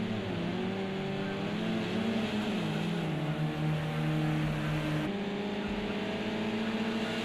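Racing cars in a video game threading through a chicane on a snowy track, several engine notes droning and shifting pitch together, steady and close, without speech.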